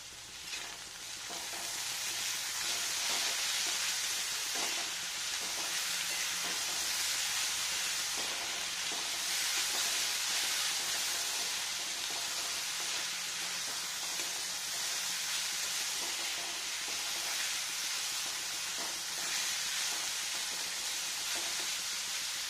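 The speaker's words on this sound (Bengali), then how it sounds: "ভালো করে ভেজে নিই সুন্দর করে" Cornflakes tiffin mixed with vegetables, salt and turmeric frying in a pan, giving off a steady close sizzle and hiss with occasional stirring scrapes running throughout.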